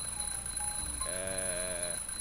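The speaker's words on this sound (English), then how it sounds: "I'm, just testing the smoke detector." A smoke detector alarm in the adventure game The Journey Down sounds a loud electronic tone that breaks off and then sounds again, over a quiet background hum, with no talking.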